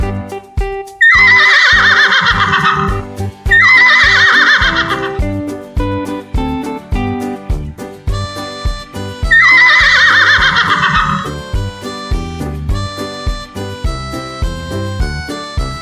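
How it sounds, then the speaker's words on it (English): Horse neighing in bursts over a backing of music, with three loud whinnies near the start and middle separated by musical passages. "Horse makes the sound"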